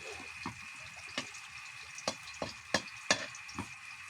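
Garlic fries in hot oil in a home kitchen, giving a steady soft sizzle broken by several sharp clicks and scrapes of stirring, close by and with no talking.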